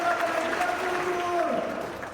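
Congregation clapping inside a church, a steady broadband patter of hands with a tonal voice or hum underneath.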